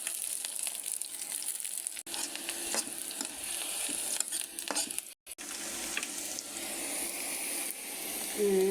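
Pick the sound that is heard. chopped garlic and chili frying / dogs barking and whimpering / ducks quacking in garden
chopped garlic and chili frying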